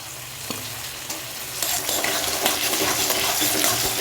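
Chopped tomato hits hot oil in a pan for ghugni and is stirred, the sizzle swelling louder and busier partway through, with scraping stirs and a few light clinks up close.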